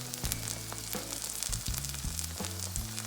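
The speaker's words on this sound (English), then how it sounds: "let it cook for a few more minutes," Vegetable pancake batter with cucumber sizzles steadily in a hot pan, a constant close crackle with soft scraping and stirring knocks now and then, no voices.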